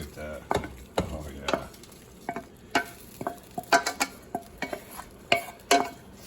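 Sausage and broccoli rabe fry in a pan alongside pasta, giving a soft sizzle broken by repeated sharp scrapes and clacks of a utensil stirring against the pan, close up and without talk.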